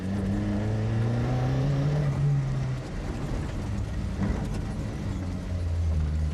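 Rally car on a recce through the Kenyan bush during the 1991 Safari Rally, heard from inside as the engine holds a steady drone, eases off, then revs again, loud and close throughout, with no talk.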